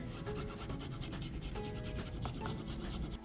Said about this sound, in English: Next, I'm gonna be using my microplane, and I'm gonna just grate it over this little dish here.